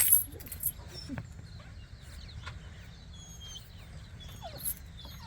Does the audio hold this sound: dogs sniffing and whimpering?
yes